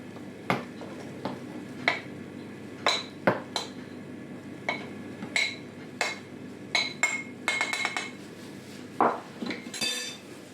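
Flour shaken through a sieve for a sponge cake gives a run of sharp, close metallic clinks and taps, irregular at first and then quicker, with no talking.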